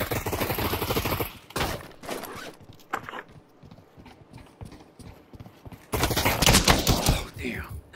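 Gunfire in the video game Pavlov, rapid bursts of shots from behind the player, loud and sharp at the start and again near the end, with players talking in between.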